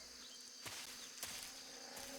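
Bees buzzing around a nest in Metal Gear Solid 3, a faint, thin drone of wings with a few brief louder swells, quiet and close with no talking.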